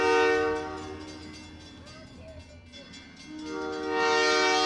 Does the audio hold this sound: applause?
no